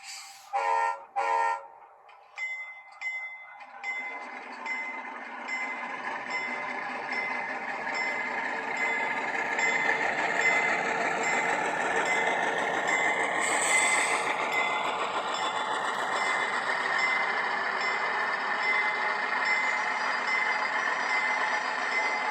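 A Rapido Conrail C36-7 HO model diesel locomotive with a sound decoder, opening with a few short horn toots and bell-like clicks, then a diesel engine rumble that ramps up and holds steady and fairly loud.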